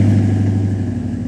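Chevy 5.3 V8 truck engine breathing through a Flowmaster exhaust, a steady loud low rumble with a slight rising rev throughout, close and continuous.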